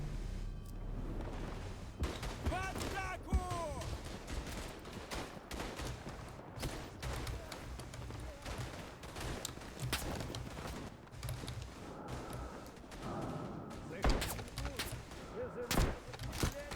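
Gunfire crackles through the Eastern Front shooter Tannenberg, scattered rifle and machine-gun shots near and far with occasional booms, while someone talks over much of it.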